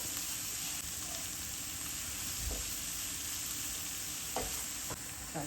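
A mixed lentil dal base sizzles steadily in hot oil, a soft continuous frying hiss with occasional spoon scrapes and stirs against the pan.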